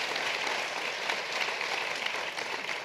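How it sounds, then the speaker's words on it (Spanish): An audience at a panel discussion applauds in a steady, dense patter of many hands, even in level, with no speech over it. "Un aplauso y muchas gracias."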